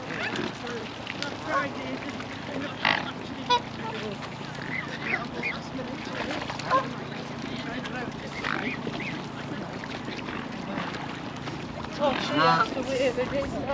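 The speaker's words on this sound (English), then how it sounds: "Lots and lots of birds. Canadian geese." Canada geese honk in scattered bursts over a steady outdoor background in a country park, with a louder cluster of honks near the end and people talking nearby.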